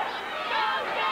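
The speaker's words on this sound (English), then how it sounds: "Hear the crowd giving J.C." Wrestling arena crowd at a USWA cage match cheering for J.C. Ice, a dense rising swell of voices with a commentator talking over it, lasting about a second.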